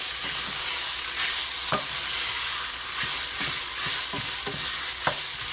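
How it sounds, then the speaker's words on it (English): Fresh garlic frying in a pan for rice dressing, stirred steadily: a constant sizzle with repeated scraping strokes of the utensil at an even rhythm, close and moderately loud. "we don't want to burn the garlic, so we need to stir it."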